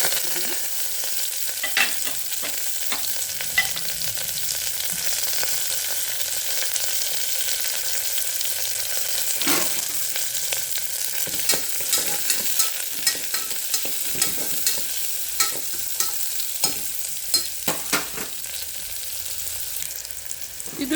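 Chopped onion and curry leaves frying in hot oil give a steady close sizzle that runs without pause, broken by scattered light crackles and occasional utensil scrapes and taps, no voices over it.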